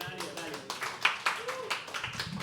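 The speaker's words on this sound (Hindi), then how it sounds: "तालियां." An audience claps briefly at a live poetry open mic at The Habitat, a light patter of hands that overlaps with speech.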